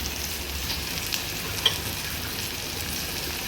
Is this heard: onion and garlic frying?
yes